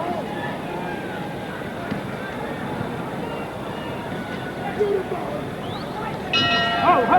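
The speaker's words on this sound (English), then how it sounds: "And the bell." A boxing ring bell ends the round in the Muhammad Ali vs. Jimmy Ellis heavyweight fight, ringing out near the end over a constant roar of arena crowd noise.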